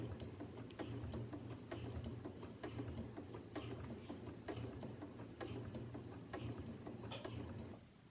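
Sewing machine stitching fabric for a coin purse, a steady continuous mechanical whir with a low hum and regular needle clatter, running without pause at an even speed.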